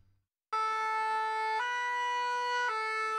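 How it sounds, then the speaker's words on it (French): Ambulance siren in Benin's Mono department wails loudly and steadily, holding a sustained tone that shifts pitch twice, sounding alone after a brief quiet start. "La sirène retentit pour entonner le requiem aux références d'Ardivici dans le département du Mono"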